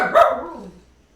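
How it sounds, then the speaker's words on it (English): A dog lets out a single sharp bark at close range, and it fades quickly into silence. "This is very unusual for Brisket to do any barking."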